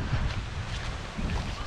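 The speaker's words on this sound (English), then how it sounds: "It's so windy today" Strong wind blows at a seaside dog park in Bowen in the Whitsundays, a steady, loud rushing buffet against the microphone with gusts swelling and easing.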